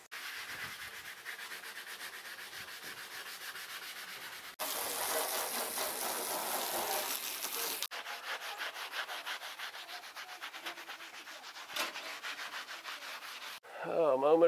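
A scrub pad rubs over a surface on an old barn-find Apache truck in continuous harsh back-and-forth strokes, with a louder burst partway through, close up and without talk.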